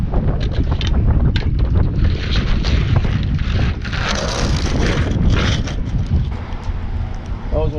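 Heavy wind buffets the microphone in loud, rumbling gusts during rain at an RV dump station, with a voice briefly speaking over the roar.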